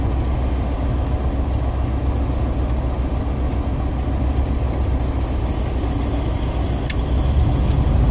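A car drives along, heard from inside the cabin: a loud, steady low rumble of engine and road noise with faint regular ticking throughout, no talking.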